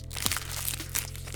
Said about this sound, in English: This is the sound of me opening a bag.